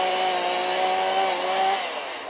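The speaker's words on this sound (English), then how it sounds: "a firefighter uses a chainsaw to cut back the" A firefighter runs a chainsaw to cut back brush at an outdoor search scene, the engine holding a steady, loud, continuous whine close by for the whole stretch, with only a slight dip in pitch near the end.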